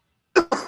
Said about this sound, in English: I was coughing my head off over here.